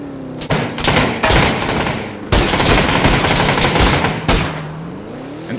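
Bursts of rapid automatic gunfire in the video game PUBG, loud and close, come in several sharp volleys with brief gaps between them.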